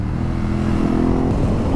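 A Ducati Hypermotard 950 RVE motorcycle with a quick shifter roars close by, its exhaust note rising steadily under load before a sharp shift in pitch partway through, with no one talking.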